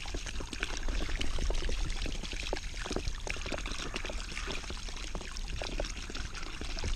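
Water gushes steadily from an open sprinkler line with its head removed in a lawn, a continuous close splashing rush that runs the whole time with no talking.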